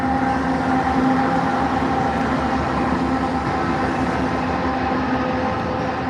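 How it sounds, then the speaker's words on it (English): A train rumbles past nearby in a steady, continuous roar of wheels on rails, with tonal squeal lines running throughout and no speech. "Got our first train coming by."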